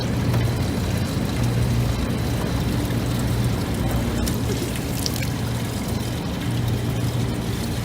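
Dirty water pours steadily out of a drained compass unit through a removed hose, making a continuous close rushing trickle with a low hum beneath it and no talking.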